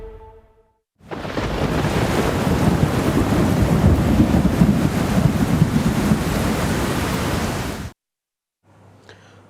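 Torrential rain in Surat, Gujarat, during waterlogging: a loud, continuous broadband roar of downpour lasts about seven seconds, then cuts off abruptly.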